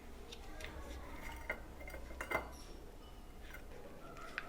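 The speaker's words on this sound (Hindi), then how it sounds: "आधा चम्मच बटर डाल दिया मैंने, मिक्स कर दिया" A spoon stirring butter into a corn and vegetable soup gives faint, sparse clinks and taps against the pot over a quiet background.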